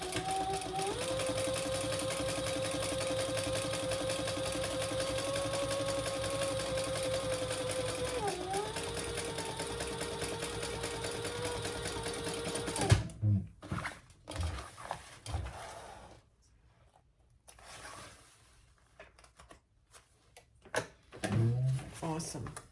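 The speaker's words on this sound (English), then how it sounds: "So you're top stitching on the lining piece." A sewing machine top stitches the lining piece of a crossbody bag in a steady, continuous whir for about thirteen seconds, with a small pitch dip midway, then stops, followed by handling clatter and a voice talking.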